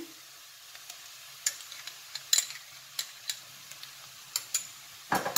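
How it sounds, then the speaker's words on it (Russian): Carrot and onion frying together in a pan, a low steady sizzle punctuated by sharp clicks and scrapes of a spatula at an uneven pace, with a louder clatter at the end. "Когда морковь уже немного обжарилась с луком и стала мягкой, теперь мы сюда добавляем томатную пасту"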